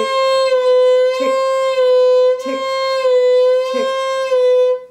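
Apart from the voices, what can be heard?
violin vibrato exercise with second finger, two iyas per bow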